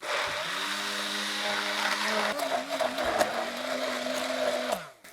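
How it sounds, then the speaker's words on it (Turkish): A blender whirs steadily at close range blending hummus, its motor pitch shifting slightly as it churns, then winding down abruptly at the end. "Şimdi bunu blenderdan geçireceğiz."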